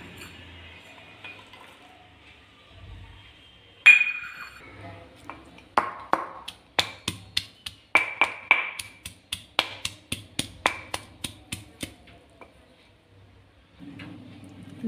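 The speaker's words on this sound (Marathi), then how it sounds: "आता लसूण कुटून घेऊया।" Garlic being pounded for a potato chutney: after a quiet start, a rapid series of a dozen or more sharp, ringing knocks comes in quick rhythm, then stops, with a voice at times.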